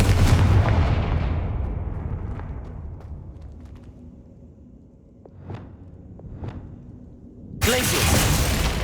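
Confringo blasting spell explosions in the Hogwarts Legacy video game: a loud burst at the start decays into a rumbling tail, followed by a few sharp crackling hits and a renewed loud blast near the end.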